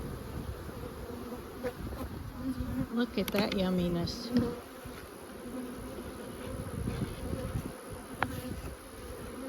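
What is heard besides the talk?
honey bees buzzing around beehive frames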